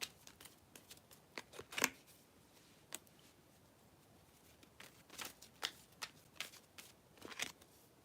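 Tarot cards being shuffled and pulled: a series of quick, crisp riffling and snapping bursts in irregular clusters, close and fairly quiet against a near-silent background.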